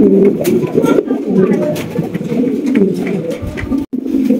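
Jet Black exhibition pigeons in a loft coo and murmur in a dense, continuous low chorus, with several birds overlapping close by and a brief break near the end.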